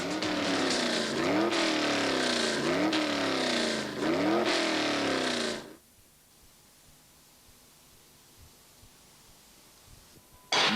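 A Ferrari F40 in a 1989 racing video game, its synthesized engine revving in repeated rising sweeps for several seconds before cutting off abruptly, leaving near-silence with a loud burst at the very end.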